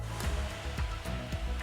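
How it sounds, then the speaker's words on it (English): A dust extraction vacuum runs steadily on an SNX nVision contour edgebander, giving a constant close whooshing drone with faint periodic thumps. "Put on your vacuum."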